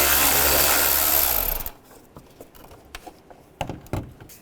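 Power tool with a T30 socket removing the radiator fan shroud screws on a 2005-10 Volkswagen Jetta: a loud whirring burst that cuts off, then scattered light clicks and taps of the tool and screws, close, no talking.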